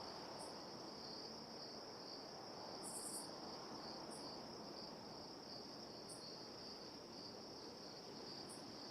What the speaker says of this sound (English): we're back to crickets